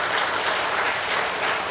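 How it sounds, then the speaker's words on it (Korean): A short burst of dense, steady applause from a church congregation, loud and continuous throughout with no speech over it. "여기서 박수"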